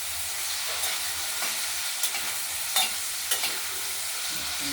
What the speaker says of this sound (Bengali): আলুটা ভাজা করে নিচ্ছি লাল লাল হলে তখন মশলা দেবো